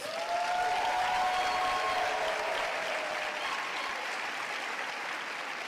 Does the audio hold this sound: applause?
yes